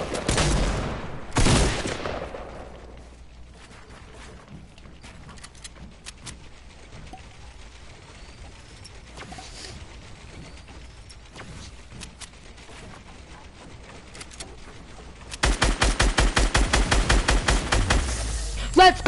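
Video game gunfire crackles in dense bursts, with a loud opening volley and then a long stretch of lighter scattered shots. Near the end, heavy rapid automatic fire comes in close and loud.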